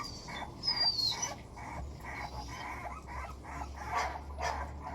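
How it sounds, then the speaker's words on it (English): A dog barks outside, several yips and barks at a moderate distance against a quiet room, with faint whimpering between them. "That's Roxy outside there, by the way"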